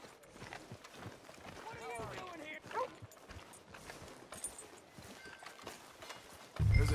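Horse hooves clip-clopping in the Red Dead Redemption 2 video game, a steady walking rhythm heard fairly close under ongoing game dialogue and ambient noise.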